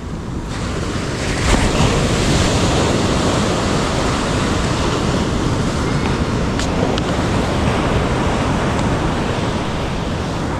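Big ocean waves crash and roar continuously close by, a heavy rumbling surf mixed with strong wind buffeting the microphone.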